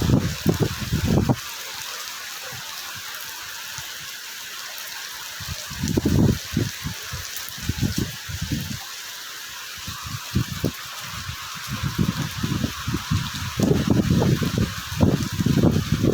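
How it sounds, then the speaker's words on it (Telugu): Rain falls outdoors in a steady, broad hiss, with louder surging bursts of splashing that come and go. "వర్షం అయితే చాలా రోజుల తర్వాత వర్షం పడుతుంది కదా"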